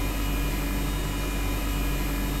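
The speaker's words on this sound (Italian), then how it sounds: "Qui abbiamo il rumore del dispositivo di aria condizionata" An air conditioner unit produces a constant, uniform broadband whir with a steady low hum, unchanging and with no other sounds.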